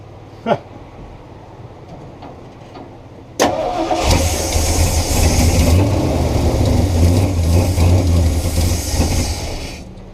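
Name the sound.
car engine starting after Offenhauser intake upgrade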